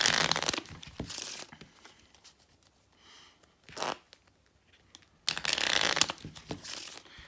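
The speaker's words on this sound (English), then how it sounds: "So, I'll just give the deck a quick shuffle." Quick riffling card shuffles in short bursts, crisp fluttering snaps with quiet pauses between them, close by.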